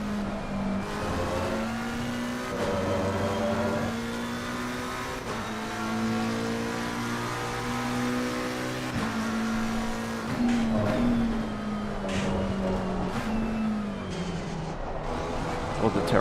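A racing video game car engine revs at the start in a steady, tonal whine that shifts pitch through gears, with tire squeal and a voice talking over it.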